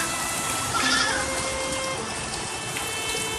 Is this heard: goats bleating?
yes